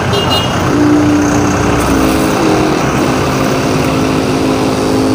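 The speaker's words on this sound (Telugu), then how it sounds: "ఇప్పుడు మామూలుగా సింగిల్ మోటార్ ఆన్ చేస్తున్నా" A battery-powered Taiwan-style sprayer pump runs on a single motor, giving a steady, close, continuous motor hum with a faint tonal whine and no talk.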